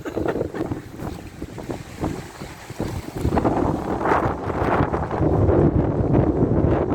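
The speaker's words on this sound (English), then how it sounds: "It's so windy, the boat's banging." Strong wind buffets the microphone in loud roaring gusts, with occasional knocks and thuds from a boat banging as it rocks on rough water.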